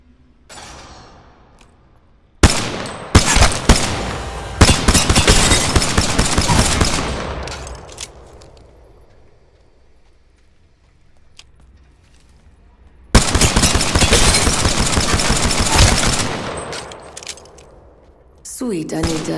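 Bursts of automatic gunfire from the video game Apex Legends, loud rapid volleys in two main stretches separated by quieter gaps, with a voice speaking in places.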